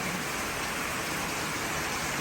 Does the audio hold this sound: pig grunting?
no